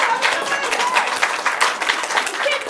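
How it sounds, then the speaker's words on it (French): Theatre audience breaking into applause during a stage play, a dense, steady patter of many hands clapping that fills the room with no single claps standing out. "Applaudissez-la."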